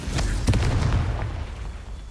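A Confringo explosion spell cast in the Hogwarts Legacy video game lands as one loud, close boom that rumbles and fades over about two seconds.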